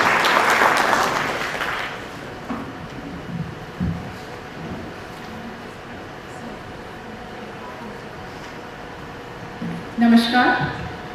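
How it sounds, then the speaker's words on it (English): Audience applause at the Indo-Global Entrepreneurship Conclave 2023, a loud burst of clapping in a hall that fades after a couple of seconds into quieter room sound. "A big round of applause for Dr."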